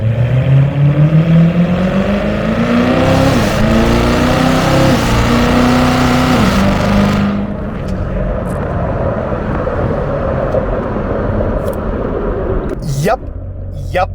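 A C7 Corvette Z06 engine revs up under acceleration to just below 4,000 rpm, its pitch climbing steadily for several seconds before easing back into a lower, steady rumble.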